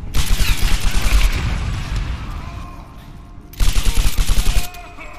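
Automatic gunfire in the 2013 Tomb Raider video game: two loud, rapid bursts of shots, the first lasting over a second and the second about a second, with a quieter gap between them.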